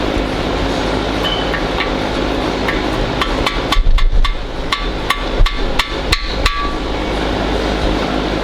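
A hammer gently pecks at a broken MDS solenoid on a HEMI engine. Roughly a dozen sharp metallic taps come in an uneven cluster midway through, close and fairly loud, over a steady background hum.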